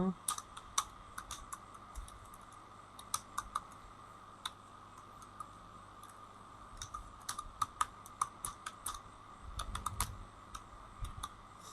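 Bangla text being typed on a computer keyboard, a steady run of light, close key clicks with brief pauses, faint room hum beneath.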